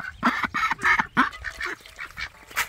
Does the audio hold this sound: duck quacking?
yes